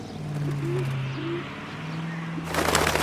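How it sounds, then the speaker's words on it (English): A dove-like bird coos twice in the LA Noire video game over a steady low hum, followed by a burst of broadband noise near the end. "Little bird."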